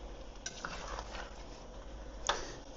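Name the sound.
stirring pasta sauce in a pot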